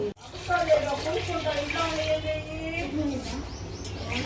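Water pours steadily into a cooking pot of rice for vegetable biryani, a close, continuous gurgling stream with a rising tone as the vessel fills.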